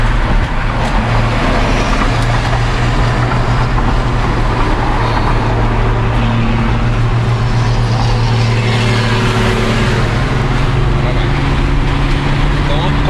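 A 1990s Mitsubishi 3000 GT VR4 sports car of about 300 horsepower drives steadily with a loud, continuous engine and road drone filling the cabin throughout.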